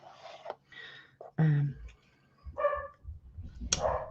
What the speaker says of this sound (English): oh, there goes the beagles